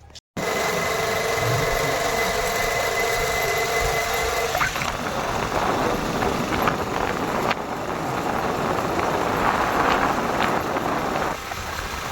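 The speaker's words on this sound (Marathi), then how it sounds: "तर मित्रांनो तुम्ही बघू शकता आपण आता आलोय मोटर बंद कराय" Farm irrigation water pump motor running in a field, a steady loud mechanical drone with a constant hum throughout and no talk.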